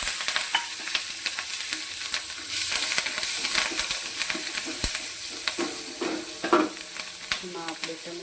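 Cinnamon, cloves, bay leaf, mace and green chillies crackle and sizzle in hot oil in a pan, with sharp pops and spatters over a steady hiss, close up and without talking.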